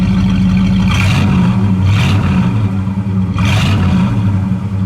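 A 1972 Buick GS convertible with dual exhaust rumbles steadily while three brief revs surge and fade, roughly a second or more apart, loud and close.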